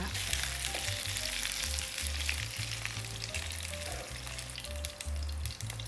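Pork fries in its own rendered fat, a dense, continuous crackling sizzle that stays at an even level, heard close and with no one speaking.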